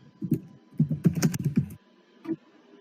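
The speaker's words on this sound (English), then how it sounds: "Bone, are you typing out what you were gonna say?" Close computer keyboard typing comes in quick bursts of keystrokes, with a short pause midway and one last clack at the end, and no talking.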